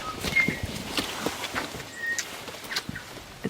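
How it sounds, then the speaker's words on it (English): Boots squelch in wet mud on rainy Anchor Island, a string of soft, irregular sucking steps heard close and quiet, with faint bird whistles in the background. "Typical sound of Anchor Island is the squelching of your boots"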